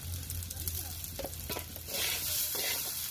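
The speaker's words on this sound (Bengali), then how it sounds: "হালকা করে চালগুলো একটু ভেজে নিছি" Washed rice grains lightly frying in a pot for pulao, close crackling sizzle with stirring scrapes, the hiss swelling louder and brighter toward the end, no talk.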